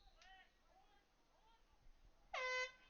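An air horn blasts once at a high school all-star game, a loud, short, brassy blare near the end, after faint play-by-play commentary.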